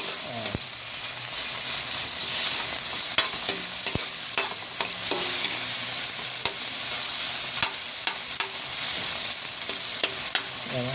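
Tomatoes sautéing in a pan for a string bean and small shrimp dish, giving a continuous hissing sizzle broken by repeated sharp scrapes and taps of a utensil stirring.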